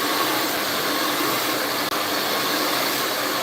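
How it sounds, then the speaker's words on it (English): A handheld hair blow dryer runs at close range with a loud, even, broadband rush of air, steady throughout apart from a split-second dip. "Another thing I like about this blow dryer, as y'all see, it straightens my hair too."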